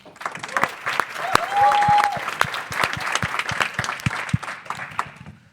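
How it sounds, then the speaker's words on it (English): Audience applause at a foundation livestream panel, a loud burst of clapping with distinct individual claps standing out, a brief tone and some crowd sound mixed in over five seconds. "Round of applause for Pamela."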